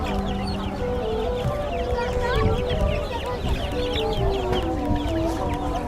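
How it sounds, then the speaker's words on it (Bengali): Chicks and chickens cluck and peep continuously at the busy Ashulia livestock market, with steady crowd chatter and people talking underneath. "মুরগির বাচ্চা"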